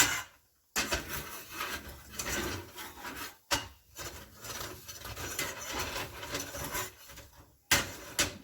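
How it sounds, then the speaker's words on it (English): A utensil scrapes and rasps steadily against a pan while flour is stirred and browned for chicken gravy, with short pauses in the scraping. "Stir it up a little bit. We want to brown this flour."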